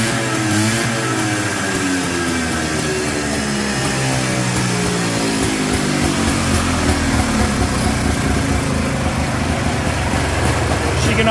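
A Polaris Trailboss ATV engine runs steadily at a loud, rough idle with a constant throb throughout, and a voice talks over it.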